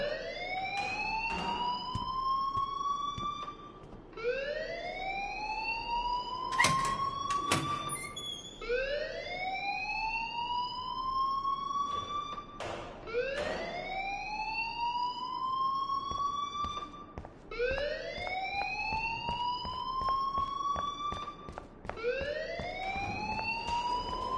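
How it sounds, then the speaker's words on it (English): A school alarm in the video game Life is Strange wails in repeated rising sweeps, loud and continuous, cycling about every few seconds with no speech over it. "please turn off that alarm since that's your job"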